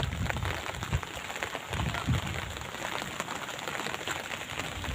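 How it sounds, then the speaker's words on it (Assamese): Heavy, continuous rain pours down outdoors, a dense hiss of drops with a few louder splashes, heard alone with no voices. "বৰষুণ নেৰানেপেৰা হৈছে।"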